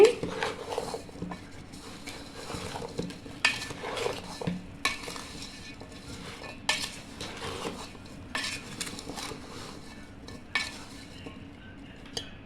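A spoon scrapes and clinks against a bowl as chopped mango pickle is mixed with salt and raw groundnut oil, giving faint, irregular stirring taps and scrapes close by.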